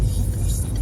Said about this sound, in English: I just let that bus out.